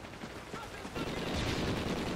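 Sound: gunfire from a gun in video game Call of Duty: Ghosts

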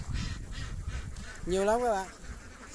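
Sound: ducks quacking at a duck farm

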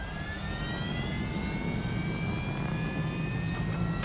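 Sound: jet afterburner roar in video game Call of Duty Infinite Warfare

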